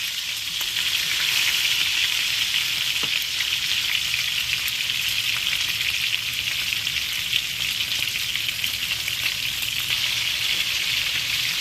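Steak fries in a hot pan with its fat rendering down, giving a steady, dense sizzle and crackle that stays loud and even throughout with no voices.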